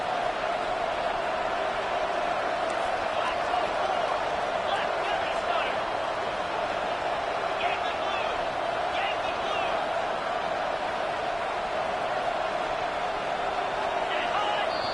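A football stadium crowd roars in a loud, continuous, distant wash of noise that runs throughout, with a voice speaking over it.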